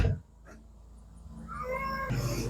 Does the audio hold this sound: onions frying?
no